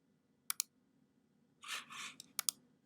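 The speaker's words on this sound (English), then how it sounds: "I'm going to click on the mirror tool" Computer mouse clicking in TinkerCAD while the mirror tool is selected: a sharp double click, then a soft muffled rustle, then another quick pair of clicks, all close and isolated against near silence.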